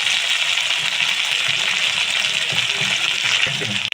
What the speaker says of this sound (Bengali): আমি একটু মশলাটা কষিয়ে নেব